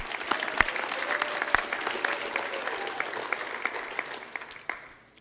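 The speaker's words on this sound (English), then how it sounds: "Big round of applause for Festus Tiger, Kamal Kinder." An audience claps for a coach at a 2015 team awards event, a steady crowd applause with crisp individual claps that carries on for several seconds before tapering off at the end.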